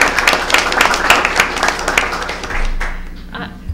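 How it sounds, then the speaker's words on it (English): Brief applause from the audience at a school board meeting, a few seconds of scattered clapping in a room that fades out quickly. "Let's give them a little applause."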